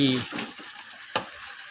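Soft sizzling of quail egg snacks frying in a pan, with a short voice at the start and a brief clatter partway through.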